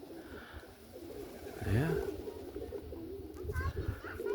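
Roller pigeons coo softly on a rooftop in windy weather, low murmuring calls under a man's brief speech and background noise.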